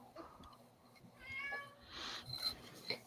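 A house cat meowing indoors, a few faint drawn-out meows in a quiet room with low background hum, soft and somewhat distant.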